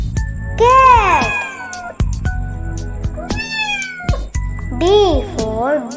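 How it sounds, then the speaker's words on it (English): A cat meows repeatedly in rising-and-falling cries, loud and close, in a children's alphabet song with bright accompaniment and spoken words between the meows. "C for cat."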